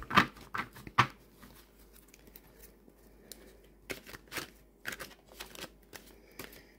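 A Halloween-themed tarot card deck being riffle shuffled by hand, with several crisp bursts of card flutter and soft handling clicks spread across the moment, close and fairly quiet with pauses between shuffles.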